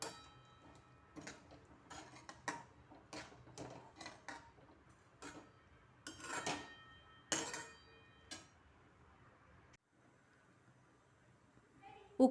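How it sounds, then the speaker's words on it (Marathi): Cooked chickpeas being stirred into a pot of spiced curry, giving sparse, quiet ticks and clinks of a spoon against the metal pot with short pauses between. "आता आपण शिजलेले हरभरे यामध्ये घालूया. चांगले मिक्स करून घेऊया."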